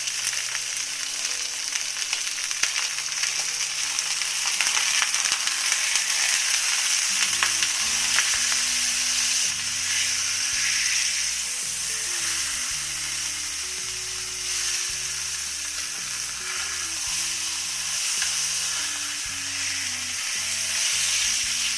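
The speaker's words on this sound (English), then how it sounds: "So you have to sear it until each side is brown." Venison shoulder searing in a hot pan, a steady close sizzle and crackle of frying meat that continues throughout, with a low hum underneath and occasional stirring or shifting sounds, and no talking.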